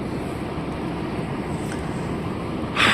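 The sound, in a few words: truck engine running while driving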